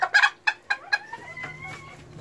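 Silkie chickens clucking inside a cramped chicken shed, a few quick close clucks and squawks followed by softer drawn-out calls, with a low steady hum in the background.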